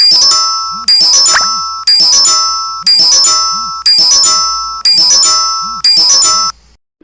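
A phone rings out loud and close while a customer is being called back, a repeating electronic tone pattern about once per second for seven cycles before cutting off.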